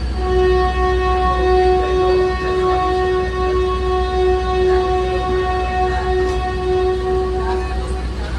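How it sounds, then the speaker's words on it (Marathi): Passenger train pulling into Bilimora junction on the Bilimora–Waghai line, with a steady horn or whistle tone sounding continuously under heavy low rumble of the moving carriages, loud and close throughout. "ऑन टाइम आपली ट्रेन जवळ झाली"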